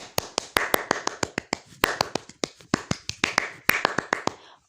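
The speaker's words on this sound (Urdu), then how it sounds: "ددو کی تقریر سن کر سب نے بہت زیادہ تالیاں بجائیں" Cartoon crowd clapping, a run of sharp, crisp claps in an irregular rhythm, close and loud, heard alone without talk.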